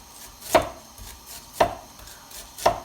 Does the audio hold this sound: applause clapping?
no